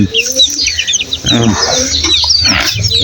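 Several chicks and young chickens cluck and chirp close by, overlapping short calls in an uneven stream, with a bit of background noise throughout.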